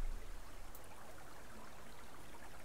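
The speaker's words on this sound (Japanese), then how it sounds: "水のせせらぎの音?" A babbling stream beside a river path in the survival hunting game Subsistence, a faint continuous watery hiss and trickle running steadily in the background with no speech over it.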